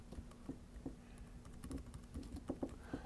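Quick, uneven keystrokes on a Mac computer keyboard, a steady patter of soft clicks entering a creator name and copyright details, close up and alone.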